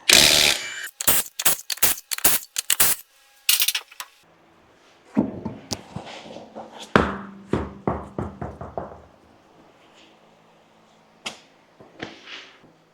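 Wheel nuts coming off the front wheel of a Toyota Hilux N70 (2005-2015) on a hoist, worked with a 21mm socket: a loud burst of rapid rattling impacts, then scattered metallic knocks and clinks, with no talking.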